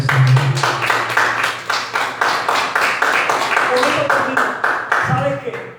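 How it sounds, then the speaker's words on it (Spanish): A church congregation gives a strong round of applause during a sermon, loud and close with rhythmic, fairly synchronized clapping, while voices and a speaker carry over it toward the end. "Un fuerte aplauso"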